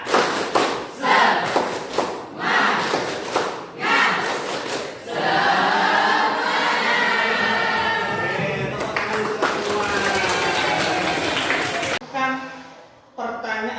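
Teachers in a training group perform a rhythmic spirit clap, sharp unison claps in a patterned beat followed by loud group shouting and chanting, with voices throughout.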